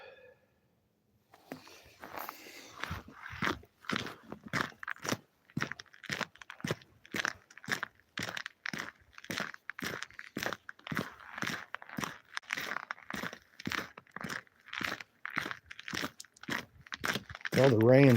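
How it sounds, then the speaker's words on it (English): Steady, rhythmic crunching of a moose chewing, close up, with regular bites repeating over many seconds. "Munching moose."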